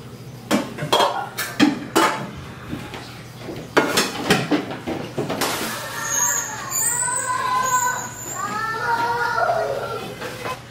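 Dishes, pots and cutlery being washed by hand in a home kitchen, with repeated close clinks and clatters of metal and crockery, followed by splashing and handling while children and adults talk and play nearby.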